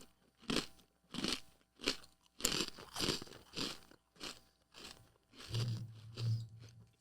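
Crunchy Panda Express takeout food being bitten and chewed in a steady series of loud, close crunches, roughly one every half second, with no talking.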